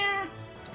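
A single short cat meow from the Resident Evil video game, close and fairly loud, with a falling pitch and no talk over it.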